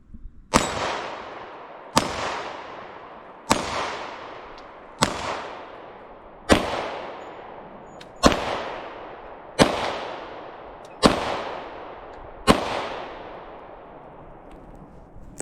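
A Ruger Five-seveN pistol fires 5.7x28 ammunition: nine loud, sharp shots at a steady pace about a second and a half apart. Each crack rings out and decays before the next, with no talking.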